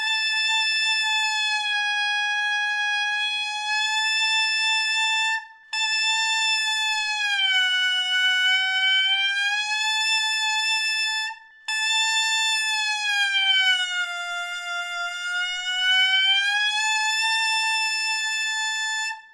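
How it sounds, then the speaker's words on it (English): A saxophone mouthpiece played alone holds a bright, buzzy concert A, then bends slowly down in pitch and back up, repeated three times with brief breaks between the long steady tones. "I want you to slowly pitch bend down to the next pitch and then up back to concert A."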